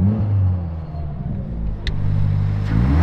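A Subaru WRX with a Tomei full titanium exhaust idles quietly and steadily, a low smooth burble close by with one brief faint click partway through.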